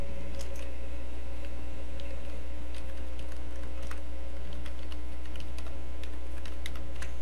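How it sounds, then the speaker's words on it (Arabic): An email address is typed on a computer keyboard: a steady run of close, light key clicks over a constant low hum, with no voices. "نكتب إيميل"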